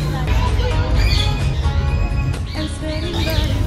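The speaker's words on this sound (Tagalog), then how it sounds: "Ang marami dito guys, iba't ibang klase ng ibon." Various kinds of birds squawking and chirping at a wildlife park, repeated calls rising over a busy background of visitors and distant chatter.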